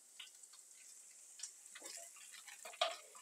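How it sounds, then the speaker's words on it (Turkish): Garlic and peppers frying in olive oil in a pan, with faint, scattered crackles and sizzling pops and a brief stirring scrape, quiet and close, with no talk. "Hemen biberlerimi ilave ediyorum."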